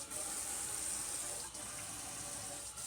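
A running faucet pours a steady, hissing stream of hot water, with a constant close splashing wash that never pauses.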